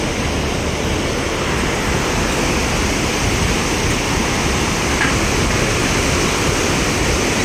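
Loud, unbroken roar of a river rushing below a long suspension bridge in the Manaslu region, dense and steady throughout with no voices.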